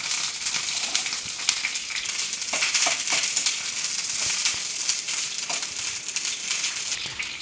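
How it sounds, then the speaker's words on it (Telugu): Green chillies frying in a little oil in a pan, a continuous soft sizzle with faint crackles and pops throughout, steady and close, without talk. "ఒక బాండీ తీసుకొని కొద్దిగా నూనె పోసి పచ్చిమిరపకాయలు వేసి వేయించుకుందాం"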